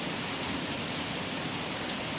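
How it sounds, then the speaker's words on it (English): Rain patters onto a porch as a steady, even hiss of many drops, moderately quiet and continuous with no voices. "rain hitting the porch"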